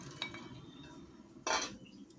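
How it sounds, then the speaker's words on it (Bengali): Crunchy fried peanuts poured into a bowl, a short bright rattling burst about a second and a half in, after a faint clink at the start. "এবার এই বাটির মধ্যে প্রথমে বাদাম ভাজাগুলো ঢেলে দিচ্ছি।"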